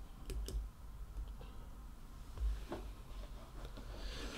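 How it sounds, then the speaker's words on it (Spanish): Mouse clicks on a computer while setting up a Facebook Canvas, a few sharp separate ticks spread through a quiet stretch with a low background hum. "Entonces le doy clic a más."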